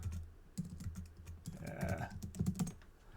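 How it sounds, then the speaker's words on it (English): Keys clatter on a computer keyboard in quick irregular bursts while a new reference is typed in, close and fairly quiet with no talking. "when I type in a new reference"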